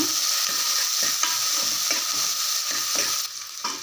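Continuous loud sizzling of onions frying in sesame oil, with rhythmic scraping and stirring strokes from a utensil in the pan throughout.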